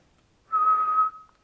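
A person whistles one steady, high sustained note imitating the alien Mac from the film Mac and Me, lasting about half a second, loud and close, with a faint trailing tail and no talking.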